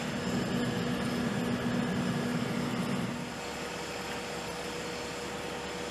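A KC-10 tanker aircraft's jet engines roar as a steady, broad rumble with a faint tonal whine, dropping slightly in level partway through and continuing at a distance without speech.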